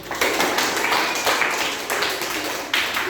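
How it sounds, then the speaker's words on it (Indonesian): Applause from a classroom audience during a teacher training session, a steady dense patter of many hands clapping at even loudness for about three seconds with no voices over it. "Kita berikan tepuk tangan lagi."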